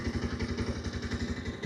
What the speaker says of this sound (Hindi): अब आप आइडियल कंडीशन पर इंजन साउंड सुनिए इस बाइक का,